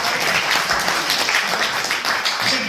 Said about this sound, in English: we have clapped for you, so another clap for him.